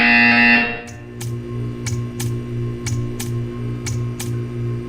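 A loud electronic buzzer tone from the video game Portal 2 sounds, then cuts to a low pulsing drone with regular sharp clicks.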